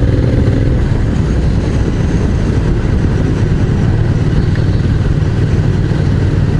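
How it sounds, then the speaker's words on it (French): A motorcycle engine runs continuously during a mountain ride, a loud steady rumbling drone with wind noise and no talking. "Ah, ce moteur, les amis, ce gros couple disponible à bas régime, c'est le pied."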